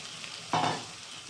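Fried potatoes drop into spiced oil in a pan for Kashmiri aloo dum, a sudden close sizzle and stir that flares up and then fades over about a second.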